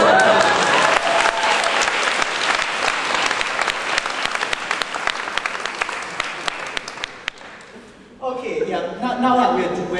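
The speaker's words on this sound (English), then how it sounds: "A big round of applause." A theatre audience claps in a big, dense round of applause that fills most of the stretch, thins toward the end, then swells back briefly after a short lull.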